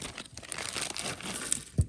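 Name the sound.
small plastic bag crinkling while bagging up jewelry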